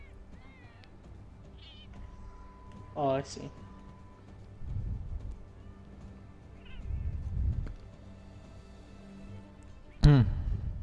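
A cat in the video game Monster Hunter World gives a few short meows spread across the stretch, the last one louder, with people talking and quiet game sounds in between.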